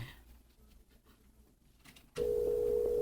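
A telephone dial tone cuts in abruptly after a stretch of faint background noise and holds steady and loud to the end, with no voices.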